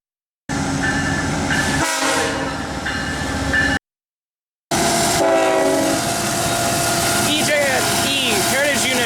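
A freight train passes close by and blasts its air horn in long loud bursts, with a brief break and the rumble and clatter of rail cars under the horn; a voice speaks over the noise.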